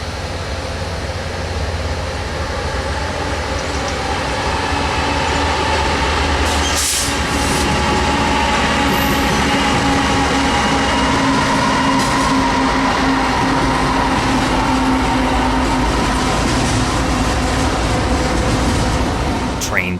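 A Norfolk Southern intermodal freight train, S-229, rolls past near CP Jersey, a loud continuous rumble with wheel clatter throughout, heard up close.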